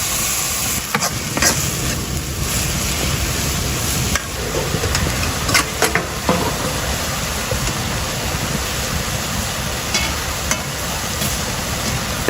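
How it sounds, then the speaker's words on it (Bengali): Small icha fish fry in oil at a village cooking spot, producing a loud, continuous crackling sizzle broken by sharp clicks and scrapes of stirring, with no voices. "তেলের উপর হচ্ছে যে ইচা মাছ যেগুলো আছে সেগুলো দিয়ে দেওয়া হচ্ছে, যেগুলো ভাজা করবে আর কি ইচা মাছ"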